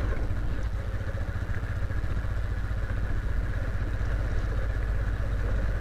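A motorbike engine runs steadily nearby, a dense low rumble with some mechanical clatter that holds at an even level throughout.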